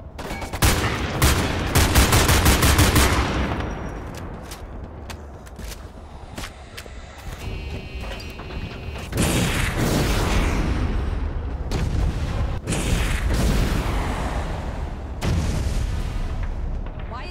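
In the video game Homefront, a rocket launcher fires at an airship amid a loud battle, with heavy booms, bursts of gunfire and rolling explosions that rise and fall throughout, and voices shouting over the din.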